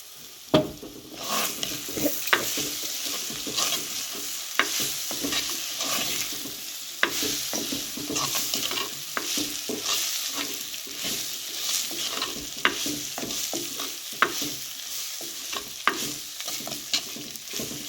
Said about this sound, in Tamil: இப்படியே ரெண்டு நிமிஷம் வதங்கட்டட்டும்